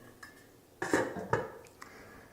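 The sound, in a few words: lid being put back on a container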